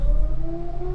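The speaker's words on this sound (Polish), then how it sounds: "Sygnały ostrzegawcze. No. Alarmowanie i ostrzeganie. Syreny alarmowe." An air-raid civil defense warning siren sounds loud and continuous, holding a steady wailing tone for the whole second.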